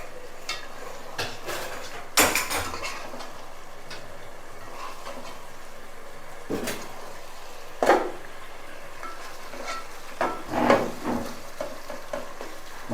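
Chicken tikka masala spooned from a pot into a bowl, with a few scattered metallic scrapes and clinks of a spoon against cookware, sparse and close, with quiet gaps between them.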